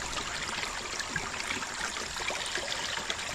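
Water trickles steadily from a natural spring beside a river, a continuous close bubbling flow with no voices.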